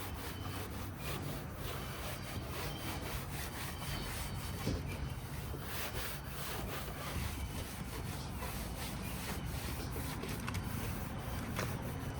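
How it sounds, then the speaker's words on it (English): A clay towel rubs steadily across the painted body panel of a Toyota Prius, making a continuous close, dry scrubbing swish with no pauses and no voices. "This might be the nicest feeling clay towel that I've felt under the hand to date."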